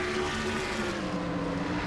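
Race car engine from a NASCAR-style racing game, heard as a steady, loud droning roar with a constant pitch, continuous and up close, no talking over it.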